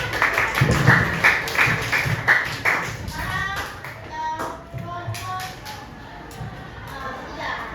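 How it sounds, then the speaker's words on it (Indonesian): A school class claps in a classroom, with loud, close handclaps that start together and thin into scattered claps and taps as voices chatter underneath. "Tepuk tangan. Tepuk tangan dulu."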